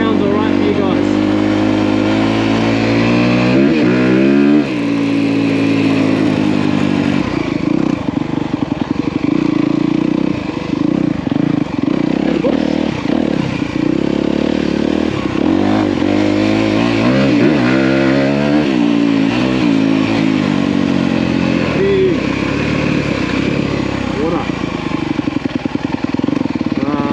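A 2023 Honda CRF250R dirt bike is ridden continuously, its engine revving up and down through repeated gear changes, loud and close throughout for nearly half a minute.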